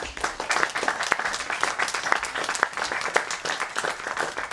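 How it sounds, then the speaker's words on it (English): An audience applauds at the close of a talk by a healer and author, a dense spread of many hands clapping that holds steady and fairly loud throughout, with no speech over it. "they've already applauded"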